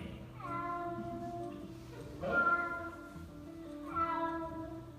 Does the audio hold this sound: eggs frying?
no